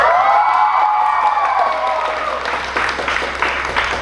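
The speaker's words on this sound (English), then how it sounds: "give them a round of applause" An audience at a high school show bursts into loud, close applause and cheering, with rising whoops at the start and dense continuous clapping throughout.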